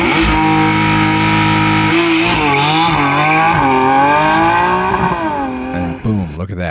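A Lotus held at the start line of an autocross Pro Solo event revs its engine hard, then launches with a rising, wavering roar and shifts, loud and close, with a voice talking over it.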